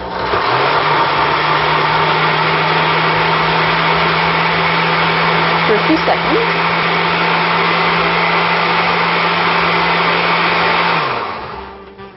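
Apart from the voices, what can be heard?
blender pulping paper and water for seed paper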